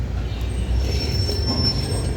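Train wheels squealing on rails, a sustained high metallic screech riding over a steady low rumble of rolling railcars, close and continuous with no talk.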